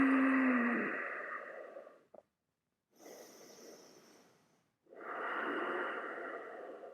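A person doing a vinyasa yoga flow takes slow, deep breaths close to the microphone, each a long airy rush with short silent pauses between them, and no talking.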